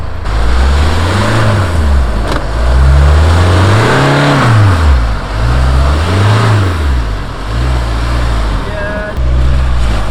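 Land Rover Discovery Sport engine driving off-road on rough terrain, a loud, continuous, low engine drone that rises and falls in repeated revving swells, heard close up without speech.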